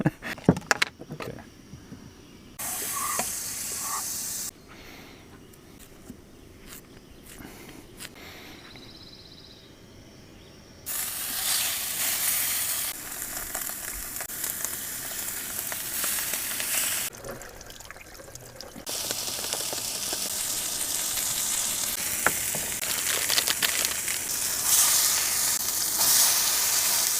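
Butter sizzling in a frying pan at a woodland truck campsite, a steady broadband hiss that swells and drops in loudness across the stretch, with no voices.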